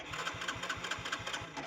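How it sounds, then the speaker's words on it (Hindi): A scooter's engine cranks over and over in a steady, rapid rhythmic chugging without catching, fairly faint and close, with no voices. "तो गाड़ी स्टार्ट नहीं हो रही गाइस"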